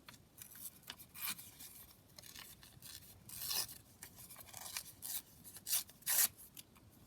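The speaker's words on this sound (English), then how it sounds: "So I might just tear this down rather than cut it." A collage paper sheet torn by hand in short, quiet rips and rustles, several separate tearing strokes close by with brief pauses between, no speech.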